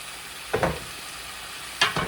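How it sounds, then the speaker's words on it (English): Spinach is stirred in a sizzling pan with a wooden spoon, giving two short scraping, rustling strokes over a faint steady frying hiss. "And now I'm gonna use my wooden spoon."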